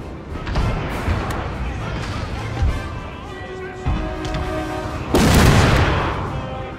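Gunfire and artillery from a Napoleonic battle in the video game Total War: Napoleon, with repeated booms and musket volleys. One heavy blast comes near the end, and someone talks throughout.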